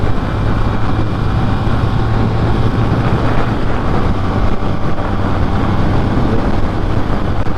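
A Braaap ST400 motorcycle runs at high revs while being ridden, a loud, continuous engine drone mixed with heavy wind rush, steady throughout with no breaks.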